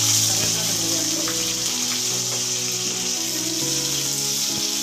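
Mustard seeds and green chillies splutter and crackle in hot oil for an egg fry, a continuous sizzling hiss dotted with small pops, close and loud without talk.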